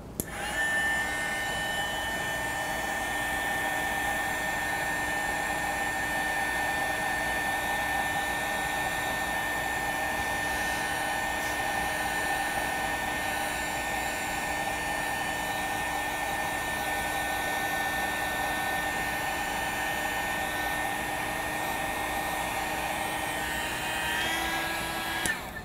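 A hair dryer blows over a watercolor painting of a pink rosebud, a loud, steady close-up whooshing hum with a high whine that runs unbroken for the whole stretch, with no talking.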